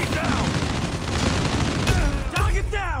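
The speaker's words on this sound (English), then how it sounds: "Trying out my new mega gun." A light machine gun in an online shooter game fires long, rapid continuous bursts, loud and dense, with a brief pause before the firing resumes.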